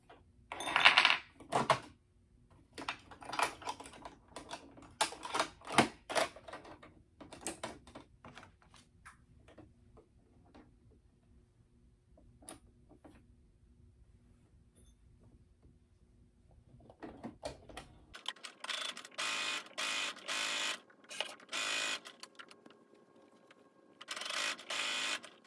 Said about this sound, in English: So let me stitch this up and put a regular foot back on.